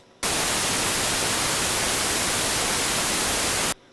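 Steady broadband white noise played loud and alone, starting and stopping abruptly, with an even hiss across the whole range and no rise or fall in level.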